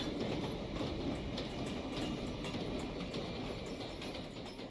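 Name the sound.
subway train arriving at station, from the video game Minecraft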